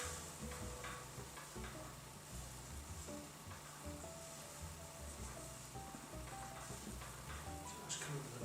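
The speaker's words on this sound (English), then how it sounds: "So that's just about coming to the boil." A pot of liquid simmering toward a boil in a home kitchen gives off a faint, steady bubbling and sizzling hiss with occasional soft pops, quiet and continuous.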